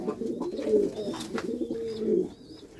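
Pigeons in a coop coo close by, repeated low throaty rolling calls overlapping in a rhythmic series, with faint chirps and rustling around them.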